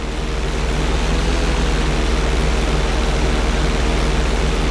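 A propeller airplane drones steadily in flight in GTA 5, with its engine giving a loud, constant, dense roar from start to finish and no voices.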